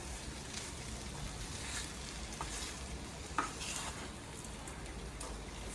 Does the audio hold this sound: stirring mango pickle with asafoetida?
yes